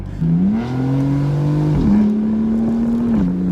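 An F82 BMW M4 exhaust drones loud and close, its engine note sliding up and dropping as gears shift, then holding a steady throaty hum.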